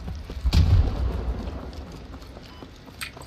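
A frag grenade detonates in the Squad military shooter, a deep low boom near the start that rumbles and fades over a few seconds, followed by a fainter sharp crack near the end.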